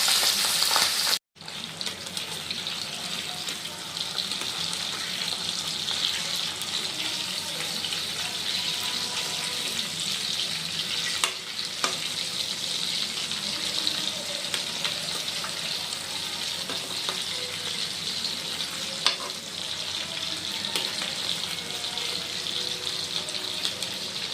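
Pabda fish fry in hot oil with a continuous, bright sizzling hiss that stays loud and even, broken by a brief clunk near the start and a few soft clicks.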